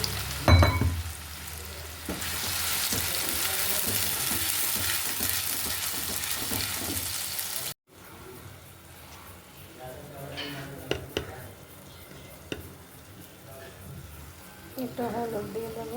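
Taro sizzles and fries loudly with mustard in a pan, a steady hiss that drops suddenly midway to a quieter crackle with occasional stirring clinks and a voice talking.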